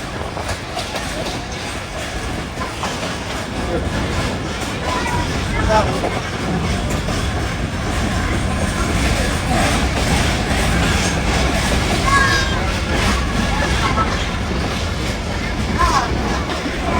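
A passenger train on the Lahore to Hasan Abdal line in Pakistan runs along the rails with a continuous rumbling roar and rhythmic clatter, heard steadily from on board throughout.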